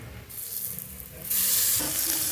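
Ground spice pastes of garlic, coriander-cumin, ginger and chilli hit a pan of fried onions with a sudden loud, close sizzle. A gentle frying hiss swells into a steady, intense crackling that holds to the end.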